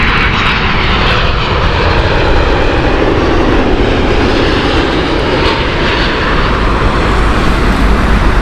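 A jet airliner engine at Heathrow Airport gives a loud, close, continuous roar with broad rushing noise that holds steady for several seconds, alone without talk.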